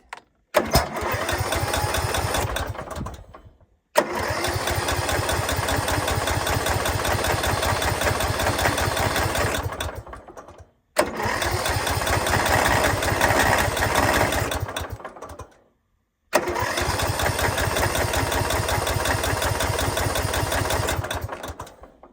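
A Craftsman T210 lawn tractor engine cranks and fires up repeatedly on choke, running in steady chugging idle bursts that cut off abruptly into silence several times, loud and close.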